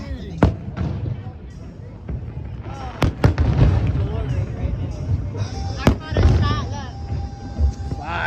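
Fourth of July fireworks bursting nearby, a series of sharp booms and cracks scattered irregularly over a murmur of people talking and background noise.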